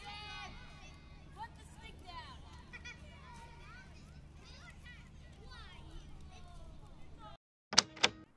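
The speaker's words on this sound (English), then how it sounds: "I found this field recording of some kids playing on the playground in like a city" Field recording of children playing on a city playground: distant shrieks and chatter of kids over a low urban hum, steady and faint, cutting off before a brief louder burst near the end.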